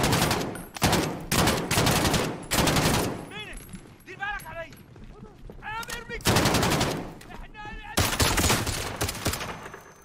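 Bursts of automatic gunfire from the Call of Duty Modern Warfare campaign, loud repeated volleys separated by short gaps, with shouted voices and chatter heard between the shots.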